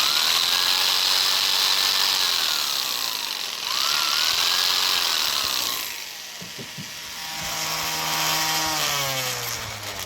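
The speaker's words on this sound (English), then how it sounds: "there we did shop lamp, sander, and skill saw all at the same time" A sander and a skill saw run together off an inverter in a 2017 Chevrolet Silverado, a loud close whine with rising and falling motor pitch, dipping briefly midway then building again as both tools keep going.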